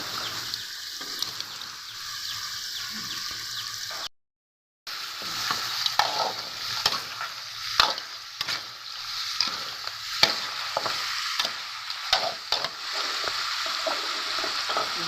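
Crab with roe stir-fried in curry powder in a pan, giving a steady close sizzle with repeated scraping and stirring clicks throughout, a brief gap of silence partway, and no voices.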